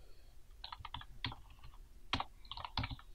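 Quick, uneven keystroke clicks on a computer keyboard while code is entered into the Python IDLE shell, close up and alone, with louder clusters of taps.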